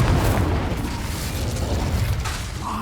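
Confringo and Incendio fire spells from the Hogwarts Legacy video game explode with a loud, rumbling boom that rolls into a sustained fiery roar for several seconds, with a faint rising crackle at the end.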